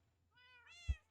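A cat meows once inside a player's house in the Minecraft video game, a clear rising harmonic meow ending in a short low thump, heard alone and fairly quiet.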